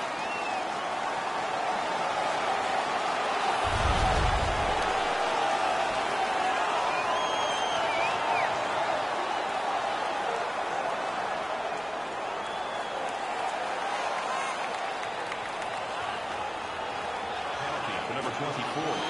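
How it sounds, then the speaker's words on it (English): Spectators at a Manchester Monarchs at Thunder ice hockey game in 2017 keep up a steady, broad roar for the whole stretch after a fight, with a commentator talking over the noise. "The crowd is ecstatic."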